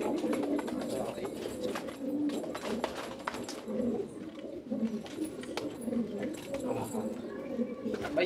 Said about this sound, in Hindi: ठीक है दो और कबूतर देखिए।